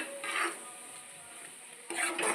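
A spoon scrapes and stirs masala roasting in a pan for misal pav, making soft, close scraping strokes with a faint sizzle underneath, two clearer stirring bursts at the start and end.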